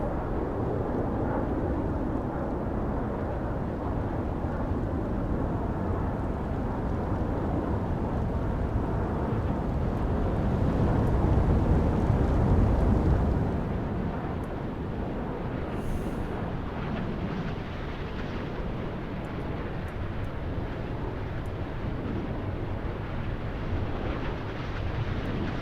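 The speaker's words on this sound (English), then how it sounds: "You can hear the Tomahawk missile engines flying underneath our planes." Tomahawk missile engines roar past beneath aircraft in the naval wargame simulation Sea Power, set in a 1983 Mediterranean battle: a continuous loud jet rush that swells briefly near the middle, then settles into a steady roar.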